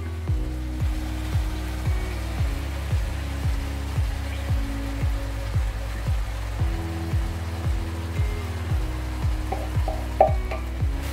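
Meat stirred with tomato sauce in a pan for moussaka, with a soft steady sizzle and rhythmic scraping strokes of a spoon, close and moderately loud, with no one talking.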